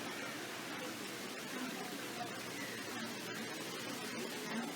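Waterfall at Knott's Berry Farm amusement park, a steady broadband rush of falling water filling the scene at moderate loudness, with faint crowd murmur beneath.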